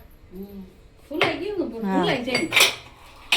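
A new heavy steel mortar and pestle handled in a home kitchen, with metallic clanks and knocks while a person talks over them, the clatter growing louder toward the end.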